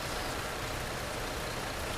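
Rain falling in the video game Fernbus Simulator, a dense steady hiss of rainfall filling the whole short stretch with no voices.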